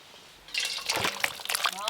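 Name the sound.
pouring rohu fish and brinjal curry out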